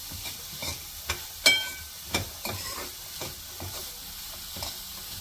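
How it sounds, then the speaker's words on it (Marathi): Peas and soaked soybeans sizzle in a pan while a spoon stirs and scrapes them, making a run of distinct scraping strokes over a continuous frying hiss, with no voices. "आता टाकणार आहोत वाटाणे, भिजवलेली सोयाबीन। हे सगळं व्यवस्थित मिक्स करून घ्यायचं।"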